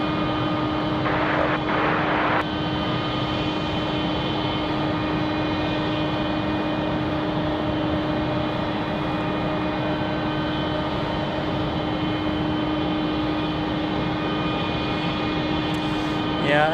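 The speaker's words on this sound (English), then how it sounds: "Comes our other Endeavor. Well, this is Republic Airways from JFK." A Republic Airways Embraer regional jet from JFK at Raleigh-Durham airport produces a loud, sustained engine roar with steady tonal whine, close and continuous throughout.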